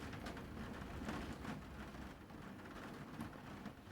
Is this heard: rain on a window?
yes